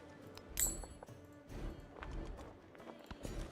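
Horse hooves clip-clop in the Civilization strategy game, a quiet run of irregular taps with a sharper accent near the start.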